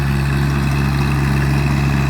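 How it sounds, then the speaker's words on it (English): A John Deere 1025R compact tractor's engine runs steadily at a constant idle-like drone, loud and close, with a strong low hum and no breaks. "But look at that tractor, isn't that cute?"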